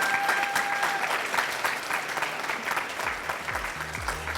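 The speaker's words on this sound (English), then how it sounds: "Can you give them a big round of applause?" An audience claps steadily for a group of presenters at a professional-skills talk, a dense, moderately loud round of applause held for about four seconds, with a voice speaking over the end.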